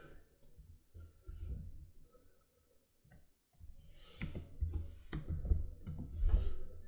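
Clicking computer keyboard keys while a real estate listing is entered, a quick series of light taps in several bursts, close and moderately loud over a faint low background hum.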